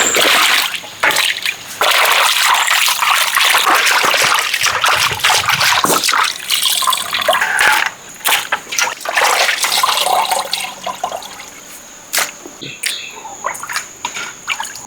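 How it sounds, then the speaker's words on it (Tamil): Chopped pieces of a country fighting rooster are washed for biryani, with loud, close splashing, sloshing and trickling water, continuous with brief breaks and no speech. "இப்போ நல்லா கழுவி எடுத்துக்கிறோம்."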